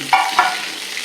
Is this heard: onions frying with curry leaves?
yes